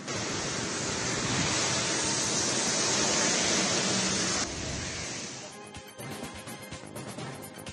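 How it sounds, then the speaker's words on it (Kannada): Heavy rain and the flooding Yamuna river in Delhi make a loud, continuous hissing roar of rushing water that drops partway through into a rougher, splashier churn. "ನಿರಂತರ ಮಳೆಯಿಂದ ಯಮುನಾ ನದಿ ಉಕ್ಕಿ ಹರಿತಾ ಇದೆ."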